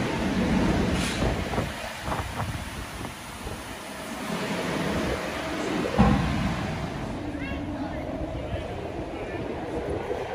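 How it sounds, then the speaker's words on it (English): Steady rumbling ride aboard a tram on the Gold Coast, Queensland, Australia, with a low rolling drone, occasional clunks and jolts, and faint voices in the background throughout. "Just getting off the tram for day 2."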